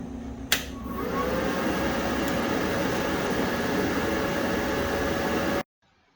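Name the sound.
YesWelder MIG-205DS-B welder switched on, fan running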